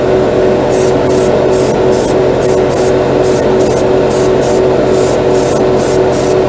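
An airbrush sprays OdenKan lacquer paint over Tamiya gray primer, a close, steady hiss with rapid pulsing bursts as the trigger is worked, no voices.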